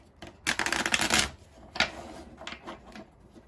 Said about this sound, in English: but I will give them another shuffle.